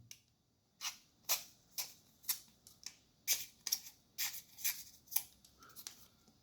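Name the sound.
knife cutting something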